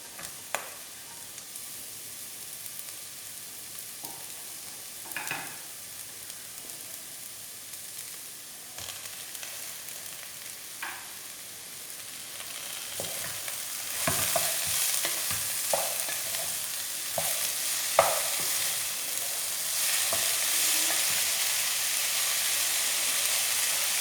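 Capsicum and tomato sautéing in a pan for vegetable oats upma, with steady stirring scrapes and a soft sizzle that grows louder and steamier partway through, close by and with no talking.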